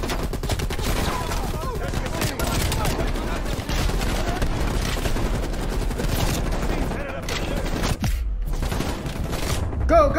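Video game gunfire in Call of Duty Black Ops Cold War, with loud sustained automatic bursts filling nearly the entire stretch, dropping briefly toward the end before more shots, with some voices mixed in under the shooting.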